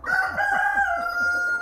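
A chicken crowing in one long, loud, close call, with softer clucking from other hens underneath.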